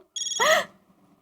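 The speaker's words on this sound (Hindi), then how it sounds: "मामा जी का फोन।" A telephone rings once with a short electronic ringtone: a brief steady tone jumps to a louder warbling chime and then cuts off abruptly, heard close and alone.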